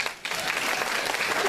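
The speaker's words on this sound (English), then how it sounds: "We got ladies and gentlemen of each of the candidates for a round of applause here" A crowd at a school superintendent candidate forum breaks into steady applause, loud and continuous for a short stretch after a brief pause.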